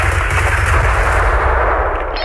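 Continuous automatic gunfire in the shooter game Escape from Tarkov, loud, dense rapid shots blending into one roar, heard alone without talking.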